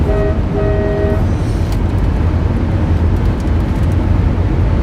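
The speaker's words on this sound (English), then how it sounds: "every time I honk that horn, it makes lots of people smile." A car horn sounds in two short honks at the start, then loud, steady road and engine rumble carries on.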